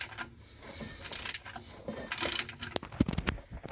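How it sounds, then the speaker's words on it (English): Ratchet tightening pipe plugs on a ZF5 transmission during a Ford Bullnose truck swap, short bursts of rapid metallic clicking between pauses and clanks, close up, no talking. "Grab our ratchet. Tighten it up."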